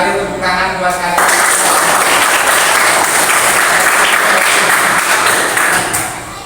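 Classroom of students at an Indonesian school applauding, loud dense clapping sustained throughout and fading at the end, with some voices mixed in.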